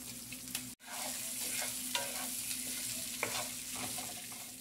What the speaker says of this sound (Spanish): ya tengo un sartén con aceitito y vamos a freír la salchicha